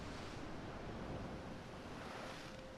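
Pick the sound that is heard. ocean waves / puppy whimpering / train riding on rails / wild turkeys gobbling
ocean waves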